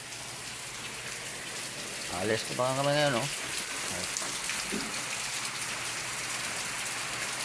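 A steady hiss of rain falls on surfaces in Manila, constant and even throughout, with someone speaking briefly over it.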